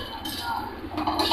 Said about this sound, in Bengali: এবার ভালো মতো নাড়তে হবে।